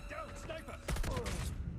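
A sniper rifle shot in Call of Duty gameplay cracks loudly about midway, its blast and tail spreading over busy game sounds and mechanical clatter.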